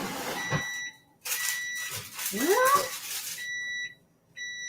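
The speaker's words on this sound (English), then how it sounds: "there's the timer" A kitchen timer beeps in a steady high-pitched repeating pattern while a Baked Alaska bakes, with a short word, a cat-like meow and household noise partly covering it.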